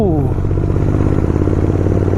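A motorcycle ridden on low fuel on a mountain road toward Badrinath rumbles loudly up close, a deep throbbing engine note with a rapid pulsing beat and slight clatter, holding steady after a brief rise at the start.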